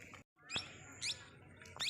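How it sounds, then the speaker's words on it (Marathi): Birds chirp in bursts of bright, repeated tweets near green hills in an open garden area, with a few short calls spaced across the moment and no talking over them. "पक्षी वगैरे सुद्धा खूप आहेत ह्या साईडला."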